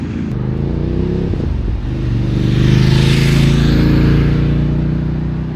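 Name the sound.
Voge DS900X motorcycle engine downshifting through quick shifter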